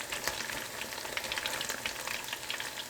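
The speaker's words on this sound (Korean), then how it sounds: "닭고기가 잠기게 식용유를 사용해야 바삭하고 맛있게 튀겨집니다." Curry-powder-coated chicken deep-fries in oil in a small pot, giving a soft, continuous crackling sizzle with irregular popping bursts, close and fairly quiet, with no voices.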